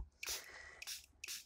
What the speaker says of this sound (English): So I'm going to spray on some water, a little water bottle like that with a spray top.